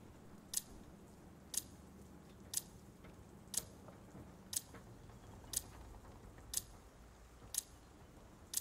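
A planted bomb in the Call of Duty: Vanguard video game ticks with sharp, evenly spaced clicks about once per second, about nine in all, over a quiet low background hum.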